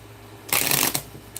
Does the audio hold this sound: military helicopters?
no